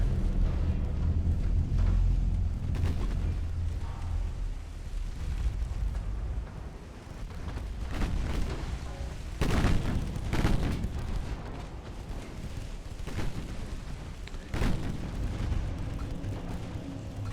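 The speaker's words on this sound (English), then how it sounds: "Here's the heavy cruiser finally showing up with his 9-inch guns that are almost out." Heavy cruiser 9-inch naval guns in Ultimate Admiral: Dreadnoughts fire in a battle, several deep booming salvos and explosions over a rumbling low background, loud and close.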